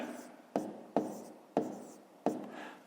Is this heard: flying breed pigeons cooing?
no